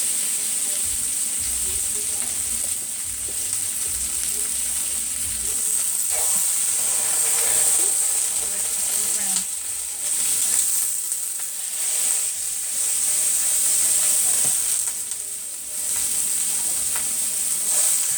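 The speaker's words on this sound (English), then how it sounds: "Take it and we're going to go ahead and put it down flat part down." Chicken pieces for mustard chicken fry in olive oil in a hot pan, giving a loud, continuous sizzle and hiss close up with small crackling variations throughout.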